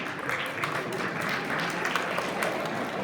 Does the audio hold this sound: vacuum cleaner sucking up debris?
no